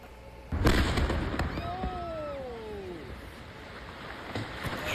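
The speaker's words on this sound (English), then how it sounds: "Police in Virginia investigating a massive explosion at a house" A massive explosion at a house in Virginia strikes as one sudden loud boom, followed by rumbling debris and a lingering roar. Faint whistling tones rise and fall after the blast.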